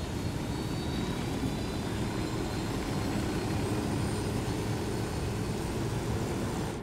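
A helicopter in the video game Ghost Recon Wildlands produces a steady, even engine-and-rotor drone that hums on without a break at moderate volume, heard alone without talking.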